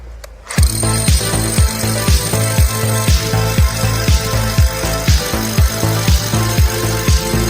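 A power drill grinds loudly and continuously while boring holes into hard rock, with a regular pulsing hammer rhythm that starts abruptly and keeps going.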